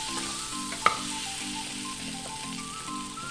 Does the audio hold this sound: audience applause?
no